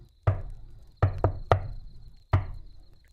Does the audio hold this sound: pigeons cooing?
no